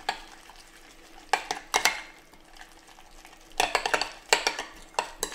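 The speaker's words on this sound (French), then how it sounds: "On va saler un petit peu et on va mélanger tout ça." A burger mixture of breadcrumbs seasoned with salt and pepper is stirred in a bowl, giving clustered clinks and scrapes of a utensil against the dish in a few short bursts over a soft background.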